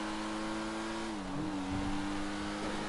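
A Vapid Flash GT sports car in Grand Theft Auto 5 revs steadily with a close, sustained engine drone whose pitch dips and climbs again, with no voices over it.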